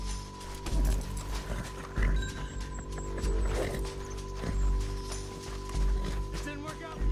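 Horse hooves clip-clop in Red Dead Redemption 2, a steady rhythmic trot of moderate loudness beneath low game sounds and occasional speech.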